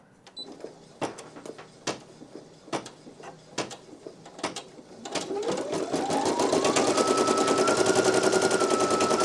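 A Brother PE900 embroidery machine starts with scattered clicks and thumps, then settles into a loud, fast, continuous stitching chatter with a rising motor whine that holds steady, close by and alone.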